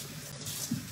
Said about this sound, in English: So a little bit of cold water on the bottom of my pot is always helpful.